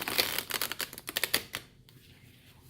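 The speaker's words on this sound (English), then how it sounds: "Okay, so I'm just shuffling." Tarot cards being shuffled by hand: a quick run of crisp, riffling flutters and taps close to the microphone for about one and a half seconds, then quiet. No one speaks.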